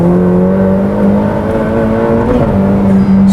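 A Ferrari F8 pulling hard in fourth gear, its engine note holding a steady, loud, close drone from inside the cabin with a slight rise near the end.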